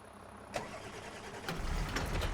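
Tractor fitted with a front loader starting up in Farming Simulator 25, an engine catching around the midpoint and settling into a steady low rumble that grows slightly louder toward the end, with no voices.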